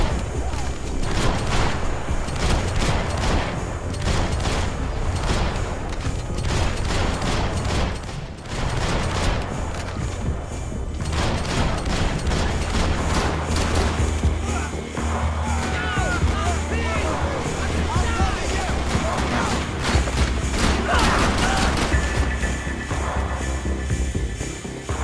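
Dense, continuous gunfire fills the Max Payne 3 video game scene, with rapid overlapping shots and bursts nearly nonstop throughout, loud and close, while a voice talks intermittently over it.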